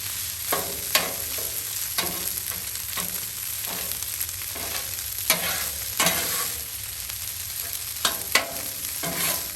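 Fried rice sizzles steadily on a Blackstone griddle, with repeated scraping and stirring strokes of a spatula cutting through the constant frying hiss at close range, no voices.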